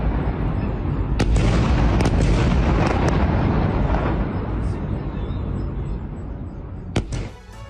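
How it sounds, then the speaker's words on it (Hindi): Loud, continuous rumbling roar of distant air-strike blasts among residential areas, with a few sharp cracks punctuating it and a sudden burst near the end before fading. "रिहायशी इलाकों के बीच विस्फोटक धमाके हुए हैं।"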